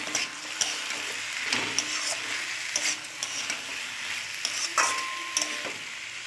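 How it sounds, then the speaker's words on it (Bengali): Ridge gourd sizzles in a hot pan while a spatula scrapes and stirs in irregular strokes, close and fairly loud, with no voices. "ঝিঙে দিয়ে একটু নাড়াচাড়া করে নেব।"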